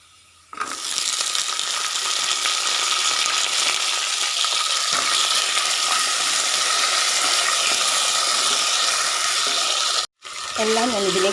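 Chopped potatoes drop into hot oil in a pan and fry with a loud, steady, close sizzle that cuts out briefly near the end, then resumes as stirring starts.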